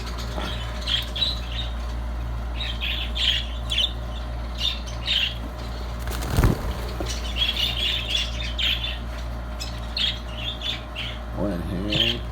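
Budgerigar chicks in a nest give repeated high, raspy squawks in short bursts, close by, with a brief handling thump midway and a person talking quietly near the end.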